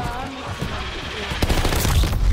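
Rapid machine gun bursts in Call of Duty Vanguard zombies mode, a dense rattling stream of loud game gunfire lasting a couple of seconds, with louder cracks near the end.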